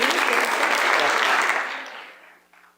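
Audience applause, dense and loud at first, then tapering off and fading out toward the end.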